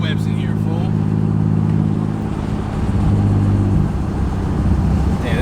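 A 30-year-old naturally aspirated Nissan 300ZX idles steadily just after its first start-up, a loud, close, even engine hum with no revving, filling the whole stretch.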